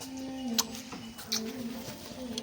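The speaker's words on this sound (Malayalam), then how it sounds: "കിളിൻ്റെ സൗണ്ട് കേട്ടെ." A dove coos outdoors, with several soft, repeated low calls at moderate distance over a faint background hum and a few light clicks.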